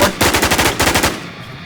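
Rapid automatic gunfire in the online shooter game Infestation comes as a loud, close burst of about a dozen evenly spaced shots. The bursts fade into a short tail at the end, with no voices.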